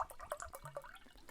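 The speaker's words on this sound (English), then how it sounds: "you're actually going to fill it with" Drinking water trickles into a regular-sized drinking glass, giving a few quiet, close bubbly drips and gurgles over about a second.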